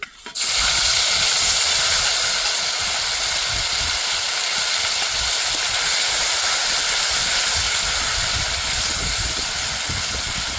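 Green and red chili paste sizzles and hisses steadily in hot oil with fried black cumin, a loud, close, continuous spray of frying noise that starts with a sudden burst as the paste hits the pan and carries on unbroken.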